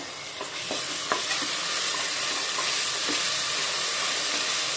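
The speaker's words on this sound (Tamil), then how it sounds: "ஒரு 2 நிமிஷம் வெங்காயம் வதங்கினோடனே இஞ்சி பூண்டு பேஸ்ட் சேர்த்துடலாம்." Onions with curry leaves and ginger-garlic paste sauté in a pan, a continuous close sizzle and hiss broken by a few sharp clinks and scrapes of the stirring spoon, with no voices.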